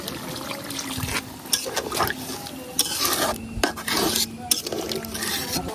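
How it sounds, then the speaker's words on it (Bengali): Water poured into a pan of browned, sautéed country chicken curry, a wet splashing and bubbling sizzle mixed with scraping and stirring of metal, close and moderately loud with brief pauses, no talk. "মাংস কষানো হয়ে গেছে গা, এখন আমি পরিমাণ মতো পানি দিলাম।"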